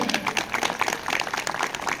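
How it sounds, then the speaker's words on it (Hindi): Audience applause at a Republic Day public gathering, a dense steady wash of clapping that holds at moderate loudness throughout the two seconds. "जोरदार ताली हो जाए"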